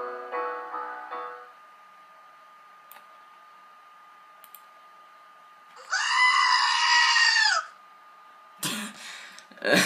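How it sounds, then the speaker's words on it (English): Goats bleat in loud, wavering bursts, one long cry in the middle and shorter calls near the end, separated by quiet stretches, alongside a faint steady tone and an earlier musical passage. "And goats."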